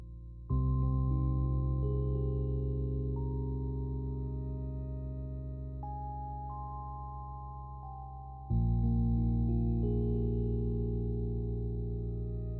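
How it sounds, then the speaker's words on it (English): Sustained synthesized music chords are being mixed with reverb. The dense tones hold steady and fade slowly with a washy tail, then a new loud chord enters partway through, and no one speaks. "I feel like a little bit of reverb might be nice too."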